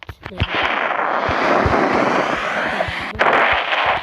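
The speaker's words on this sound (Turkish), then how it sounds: "roket roket attım ya roket attım" A rocket fired in a team-based online video game, bursting in a loud sustained crackling explosion that fills most of the clip, with a second sharp blast near the end.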